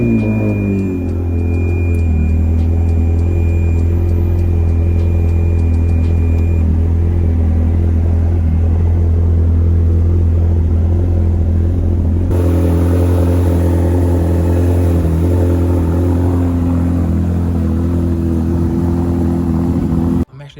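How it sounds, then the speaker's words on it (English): Cold start of a Ferrari 360 engine with test pipes: a loud, steady, deep exhaust drone close up, with a high whine at first, then the pitch and texture shift partway through as the idle settles. "Okay, cold start."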